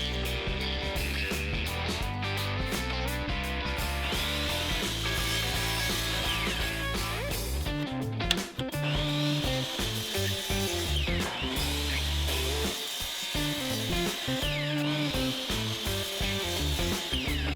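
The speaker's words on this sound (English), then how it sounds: "we need to take our 1x2s and we are going to cut" A power saw cuts 1x2 lumber boards with a steady, loud, close whine that continues almost without break, dipping briefly midway.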